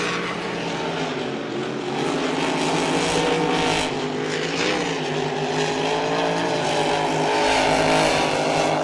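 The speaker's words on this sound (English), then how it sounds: "these boats sound awesome on the shores of the Dargle River as they go up to the main turn 3 and 4" Racing powerboats roar along the Dargle River toward turns three and four at a Winter Spectacular race meet, a loud, continuous multi-engine drone with shifting pitch that swells near the end, no talking.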